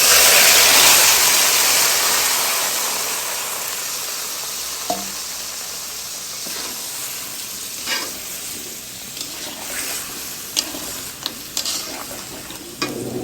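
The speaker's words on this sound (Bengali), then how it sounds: "ম্যারিনেট করা চিকেনটা দিয়ে দিব।" Marinated chicken frying in a pan with bay leaf, cinnamon and cardamom, a loud steady sizzle that slowly settles, with occasional clinks of stirring against the pan near the end.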